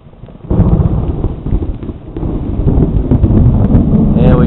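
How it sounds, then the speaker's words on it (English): Thunder rumbling outdoors near a metal building during a storm, a loud low roll that builds steadily, with wind buffeting the microphone and a voice faintly underneath. "we do have a good thunder boomer"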